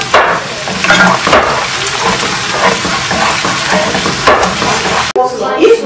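Bay leaves, cardamom, cinnamon and onion fry in hot oil while being stirred in a pan. Loud, close sizzling and crackling comes with repeated scraping stirs, then breaks off abruptly near the end.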